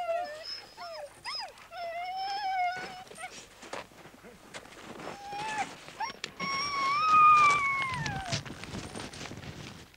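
Sirius patrol sled dogs in Greenland whimper and howl in rising and falling wavering tones, several animals overlapping at moderate distance over a quiet background.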